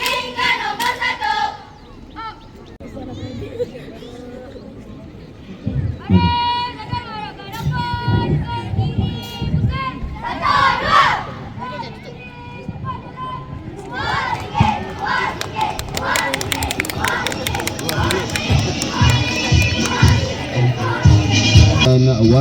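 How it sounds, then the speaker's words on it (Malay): Children cheering and chanting in a crowd at a primary school sports day, a lively mass of young voices with shouts and rhythmic calls, steady and fairly loud throughout, with a voice over a loudspeaker at times. "Bersorak ramai-ramai."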